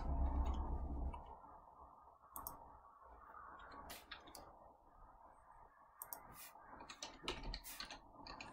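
Quiet, irregular computer keyboard typing while entering an arc cosine expression for a calculus homework problem, with scattered light key taps over a low background hum.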